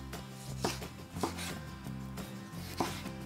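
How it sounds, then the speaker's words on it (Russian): A knife slices a tomato into thin strips for a cabbage salad, making four quiet, evenly spaced cutting strokes on a board with a faint low hum underneath. "Теперь еще к этому салатику нам понадобится помидор. Буду его тоже нарезать тонкой соломкой."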